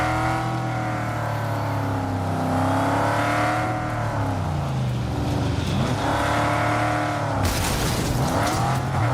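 A fast, hard-to-handle muscle car driven in Cyberpunk 2077, its engine roaring loudly throughout with rising and falling revs through gear changes, plus a brief tyre-skid hiss near the end.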